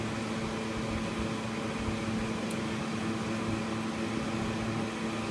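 A household air cooler runs steadily close by, a continuous whirring fan hum with a low drone and broadband airflow hiss, unbroken and even throughout.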